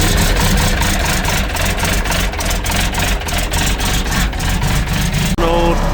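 An old Mitsubishi MS-280 excavator with a bad oil pump runs with a loud, steady diesel rumble and throbbing idle, close up, ending in a brief clunk near the finish.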